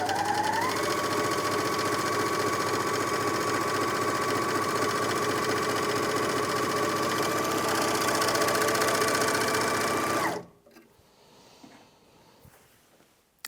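Janome 9300DX overlocker stitching a fabric sample, a loud, steady mechanical whirr running continuously for about ten seconds before stopping abruptly into near silence.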